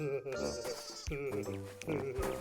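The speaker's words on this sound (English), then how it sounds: "And there was a goat." A cartoon goat bleats in a few wavering, nasal calls, close and clear, with music or other sounds layered around it.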